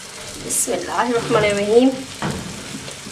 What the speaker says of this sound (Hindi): इस तरह से हम डाल देंगे और शैलो फ्राई करेंगे इन्हें